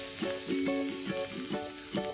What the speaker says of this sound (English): In a frying pan, we'll heat up some oil. Once the oil has heated up, we'll add in 1 chopped medium-sized onion.